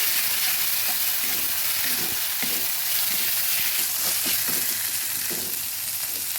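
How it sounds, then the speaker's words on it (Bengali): Chopped onion, ginger and garlic fry in a hot pan for a boal fish curry, giving a steady, close sizzle with faint stirring clatter and no voices throughout. "পেঁয়াজ কুচি আদা রসুনটা ভেজে নিচ্ছি"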